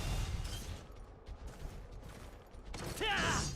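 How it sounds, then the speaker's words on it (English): Gunlance mini charge shots in the video game Monster Hunter 3 Ultimate on Wii U: a few mechanical bursts and clanks over a steady game background, ending in a brighter metallic ring. "do these mini charge shots"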